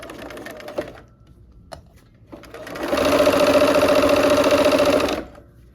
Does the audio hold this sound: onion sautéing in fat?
no